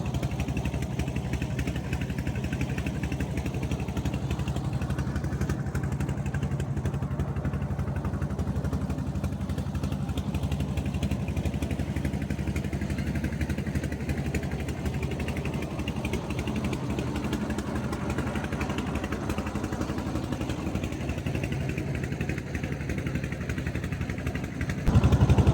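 A trawler boat's engine chugs steadily on a wide river where the Padma and Meghna meet, a constant close mechanical drone with a rapid rattling pulse, unbroken and without talk.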